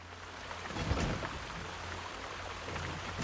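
Steady rushing water in an Elder Scrolls Online Necrom interior, a continuous broadband wash with a faint low hum, moderately loud and unbroken throughout with no talk.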